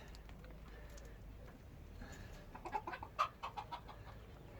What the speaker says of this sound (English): There is our escapee hen, Miracle.